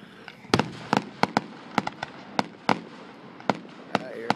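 Fireworks at the 2014 Stahlstown, Pennsylvania town display, a rapid irregular string of loud sharp booming bursts and crackling pops, heard from a distance over outdoor crowd murmur.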